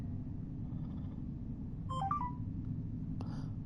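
A phone chirps in the game Star Trek Resurgence, a short burst of quick electronic tones followed by a brief blip, faint against a low steady ambient hum.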